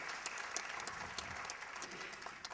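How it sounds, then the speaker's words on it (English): An auditorium audience gives a round of applause, a steady, even wash of many hands clapping, faint and distant throughout. "So big round of applause, I think, to everyone who's been part of this journey."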